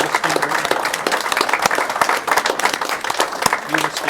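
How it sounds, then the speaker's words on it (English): A city council chamber audience claps for firefighters receiving life-saving recognition, a busy, close round of applause that stays steady throughout, with a voice briefly audible underneath. "Let's give them a round of applause"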